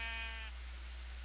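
A sheep in the video game Minecraft gives one short, nasal bleat that stops abruptly, over a constant low hum.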